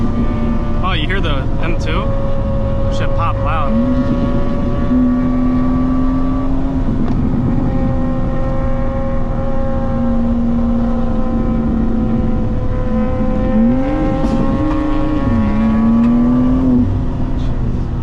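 A BMW G87 M2 runs at high speed with a loud, steady engine and exhaust drone, cracking with sharp pops early on, while voices talk over the constant roar.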